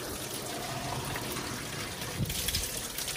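Water poured into a cup in a desert setting, a faint steady gush and trickle running throughout under broadband outdoor noise, with no talking.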